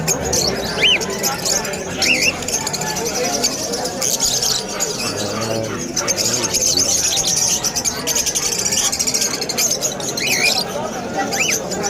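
Pet birds, including wild-type birds, chirp and squeal in a busy pet shop at a market in Hulo, Malabon, with high calls scattered over constant crowd noise and nearby talk.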